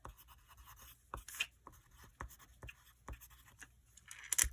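A pen scratches across paper in short, irregular strokes with small taps between them. The sound is close and fairly quiet, and no one speaks.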